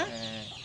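A hen gives a short, close cluck among native chickens at a poultry farm in Kodungallur, Kerala, a brief single call fading into quiet farm ambience.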